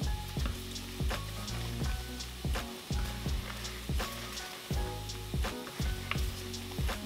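Shrimp seasoned with onion powder cooking on low heat in a pan, a steady soft sizzle broken by repeated stirring scrapes and clacks at close range.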